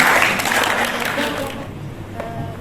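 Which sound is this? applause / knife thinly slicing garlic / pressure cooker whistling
applause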